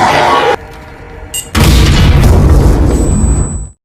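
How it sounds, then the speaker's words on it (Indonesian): An explosion at an aircraft door in a dramatic story: a sharp burst, then a heavy booming roar that fills the clip loudly before cutting off. "Dengan ledakan di pintu pesawat"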